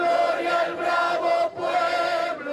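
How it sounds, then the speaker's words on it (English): A crowd gathered in a poor neighbourhood of Caracas chants "Glory to the brave people", many voices singing together in a sustained, swelling chorus with a brief dip midway. "Glory to the brave people, they chant."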